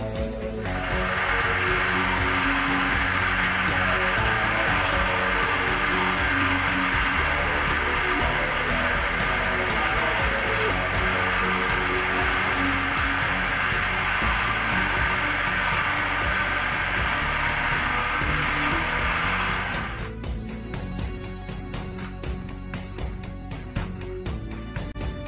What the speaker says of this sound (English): Put on the motor, push and start beveling.